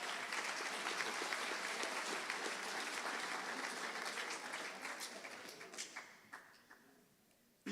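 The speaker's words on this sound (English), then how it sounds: "I think that's worth a round of applause" Audience applauding at a high school underclassmen awards ceremony, steady clapping from a large room that gradually thins and fades out toward the end.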